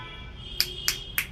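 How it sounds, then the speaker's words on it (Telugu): Three sharp finger snaps at an even pace, close and clear, made during a check of a phone at a mobile repair training class, with a faint steady background hum. "చిటికలు"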